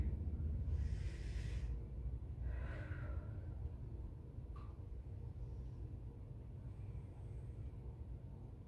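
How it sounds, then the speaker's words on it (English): Slow, deep breaths in through the nose and out through the mouth during a yoga flow sound faint and close. A couple of soft, audible inhales and exhales stand over a low, quiet background rumble. "Another deep breath in through the nose. Exhaling fully out through the mouth."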